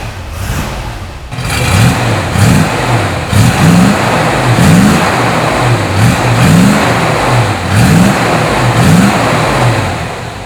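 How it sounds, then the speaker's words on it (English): A 1966 Chevrolet Chevelle Malibu engine cranks and catches, then revs repeatedly in rhythmic surges over a rumbling idle, loud and close. "How about I start it for you so you can hear what it sounds like?"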